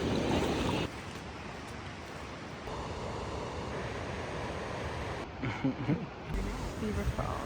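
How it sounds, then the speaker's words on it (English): Rushing river water at a trail crossing on the hike to Havasupai Falls in Arizona, a steady broadband wash that runs throughout, loud and close, with brief wind buffeting on the microphone near the end. "Second river crossing right here."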